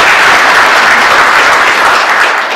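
Audience applause at a business and creativity conference keynote, a dense, steady wash of many hands clapping throughout, loud and close with no voices over it.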